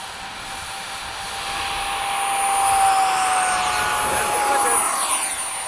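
Two 70mm electric ducted fan RC jets, an FMS F/A-18 and a Hobby King Skysword, fly in formation, their high-pitched whine swelling as they pass close overhead at a model airfield, with a faint doppler shift.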